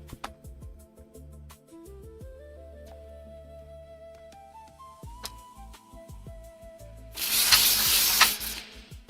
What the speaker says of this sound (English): I'm going to come back to it and try with a heat gun.